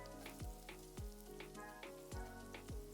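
Chopped garlic and julienned carrot sizzle in hot oil in a pan, a soft, quiet crackle beneath a steady rhythmic beat.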